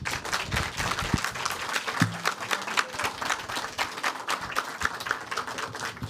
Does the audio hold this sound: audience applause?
yes